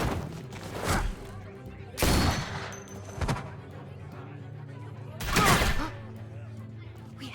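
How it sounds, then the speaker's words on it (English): Gunfire in The Walking Dead video game, three loud, sharp shot bursts spaced a few seconds apart over a low steady background hum. "I hear gunfire."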